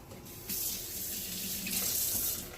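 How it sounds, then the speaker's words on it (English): A kitchen tap runs water over cooked pasta, a steady hissing stream that starts abruptly and continues close and moderately loud, with no talking. "I'm going to run this one just under some water"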